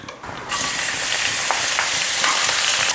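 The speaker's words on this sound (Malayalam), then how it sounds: "കുറച്ച് ഒലിവ് ഓയിൽ ചൂടായി വരുമ്പോൾ അതിലേക്ക് ഈ വെളുത്തുള്ളി സവാള ഇടും" Garlic and onion hit hot olive oil and burst into a loud, steady sizzle that holds from about half a second in, with faint crackles and stirring scrapes through it.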